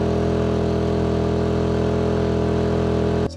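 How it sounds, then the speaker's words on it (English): A gas generator powering an RV through an EcoFlow power hub drones steadily at a constant idle, loud and close, with no talk over it and a brief drop at the very end. "you can hear the gas generator even slowing down because the power hub is communicating with it."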